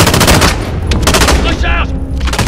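Loud rapid gunfire from the video game Modern Warfare fills a short burst of play with closely spaced automatic shots, and a voice is briefly audible beneath it.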